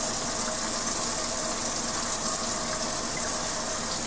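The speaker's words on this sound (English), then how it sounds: "As I begin to rinse my hands, I want to make sure that I don't fling my hands, rather wipe away excess water." Hands rinsed under a running tap, a loud, steady gush of water pouring continuously and close by with no pauses.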